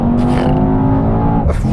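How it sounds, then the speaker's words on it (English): A Mercedes-AMG E63 launches hard under launch control, its engine roaring loud and close with a steady, strained tone that holds for nearly two seconds as the car surges forward. "left foot on the brake, floor the throttle, go to race start, release the brake"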